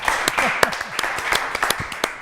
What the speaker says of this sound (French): Applaudissements pour la petite Marie.